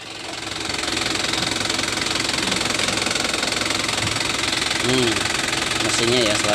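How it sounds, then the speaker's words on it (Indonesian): Diesel engine of a 2015 Isuzu ELF NKR 55 truck with Adiputro bodywork idling with a steady knocking clatter, close and continuous, while someone talks over it. "Pengen tahu untuk mesinnya, suara mesinnya."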